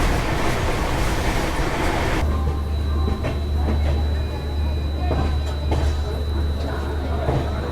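Shatabdi Express train running at 130 km/h, a loud steady rumble and rush of wheels on track heard from inside the coach, with a voice speaking over it.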